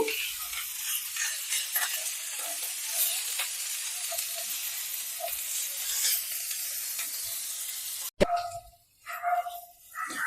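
Capsicum and other vegetables fry in a pan with green chillies, a constant crackling sizzle at moderate loudness for about eight seconds before it cuts off abruptly into quieter, uneven background sound.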